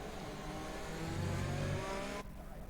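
Race cars idle and rev on a formation lap in an F1 video game at Azerbaijan, a steady layered engine drone with a brief rising rev, then cutting off sharply near the end.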